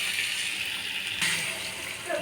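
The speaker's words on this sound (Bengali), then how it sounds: "এবার জল দিয়ে দেবো।" Water gushes steadily into a pan of sautéed potatoes, a continuous hissing pour with a slight swell near the middle, fairly quiet and without talk.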